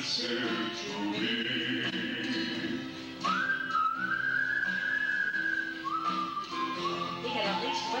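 A person whistling a tune, a clear sustained whistled melody line that rises, holds, then steps down, over a musical accompaniment with voices nearby.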